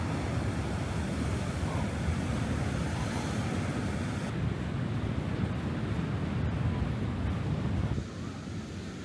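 Ocean waves roll continuously along the Porto coast beside a wooden seaside boardwalk, a loud, steady wash of surf with wind noise throughout and no clear breaks between waves.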